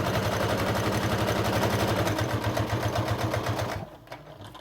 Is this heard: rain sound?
no